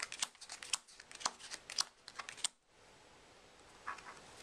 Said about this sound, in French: si on distribue les cartes comme ceci